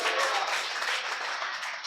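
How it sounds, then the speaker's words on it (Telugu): A church congregation in Narasaraopet claps together, a dense, sustained burst of applause filling the room at steady loudness for about two seconds. "చప్పట్లు కొట్టి గట్టిగా చెప్పండి."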